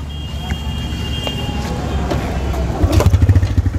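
A TVS Raider 125 motorcycle engine catches and starts while in gear, a steady idle hum building into a rapid, loud pulsing rumble near the end.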